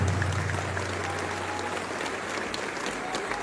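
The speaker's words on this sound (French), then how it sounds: "Je vous demande de l'applaudir très fortement" Dense, steady applause from a large audience honoring the president of Niger at a political gathering, a continuous roar of many hands with crowd noise mixed in, loud and sustained throughout.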